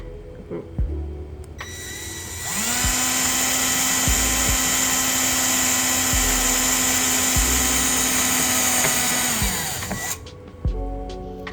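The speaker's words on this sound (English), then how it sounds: "I'm just going to drill a hole so I can run the wires underneath the little pillar" A power drill starts up and whines steadily for around seven seconds before winding down, loud and close, with a few knocks before and after.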